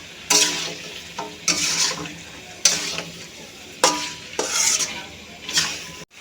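Fried potatoes and meat are stirred in a hot pan for a spicy meat curry, a spatula scraping in six loud, regular strokes over a low sizzle, no voices.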